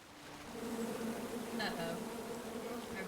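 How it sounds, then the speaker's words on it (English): Bees buzzing around a beehive in the game King's Quest, a steady close drone that swells briefly in the middle, with faint voices in the background. "Come at me, bees!"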